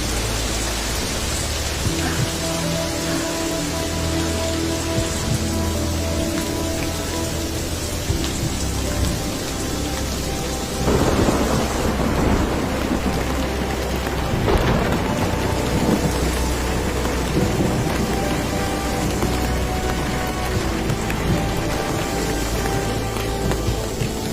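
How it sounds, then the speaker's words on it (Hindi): Heavy rain pours steadily throughout while deep rumbling thunder and lightning roll in, with a louder crack and boom about midway. "बिजली कड़क रही है और मुझे जल्दी से जल्दी घर पहुंचना है। तेज बारिश हो रही है।"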